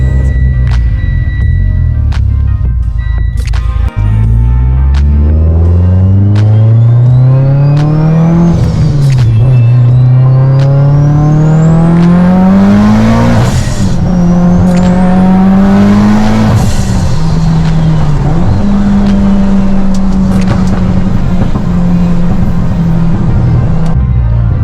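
A Subaru STI widebody engine fitted with new spark plugs starts and revs repeatedly, rising and falling blips of a loud close exhaust note over about twenty seconds, with no talking.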